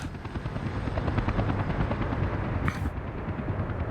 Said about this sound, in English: It's a good thing we had the helicopter.